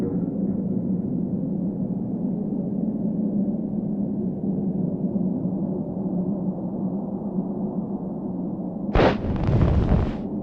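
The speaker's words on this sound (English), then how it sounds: "Wow, what an explosion!" A long, heavy rumbling explosion in the game Secret Files: Tunguska, set at an Antarctic station, roars continuously and loudly, with a sharp bright burst near the end.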